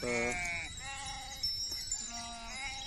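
Sheep and lambs bleat close by at milk feeding, several overlapping wavering calls in quick succession with faint bells and outdoor noise behind.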